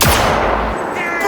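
A loud, close gunshot blast in Cyberpunk 2077 during a firefight, the report ringing out and then decaying into a short tail of echo and lingering rumble.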